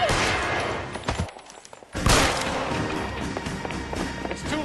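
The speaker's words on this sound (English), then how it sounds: "Shoot him, for God's sake!" Gunfire in the video game L.A. Noire cracks in loud, rapid shots with a sharp burst near the middle, mixed with running footsteps and scuffling in a busy, close action scene.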